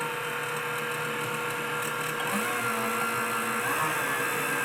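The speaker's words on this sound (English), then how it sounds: "We're going to get these beat up, whipped up nicely, slowly adding the sugar" An electric mixer whips egg whites with cream of tartar as sugar is slowly added for meringue, a loud steady motor whine with a constant hum throughout and no talking.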